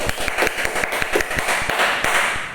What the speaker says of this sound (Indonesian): tepuk tangan untuk Mas Topan